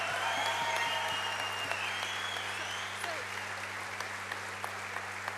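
Audience applause at a convention after a speech, continuous clapping at moderate level over a steady low hum, tapering slightly toward the end.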